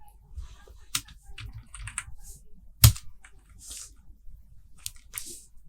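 Typing on a computer keyboard, irregular bursts of close key clicks and taps with brief pauses and one sharper louder strike, no talking.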